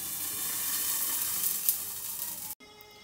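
Sambara dosa, a thick protein and fibre rich temple prasadam dosa, sizzling steadily on a hot pan, a close and even hiss that cuts off abruptly near the end.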